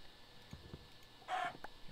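Minecraft chickens give a few short soft clucks against a quiet game background, with one louder bright squawk in the middle.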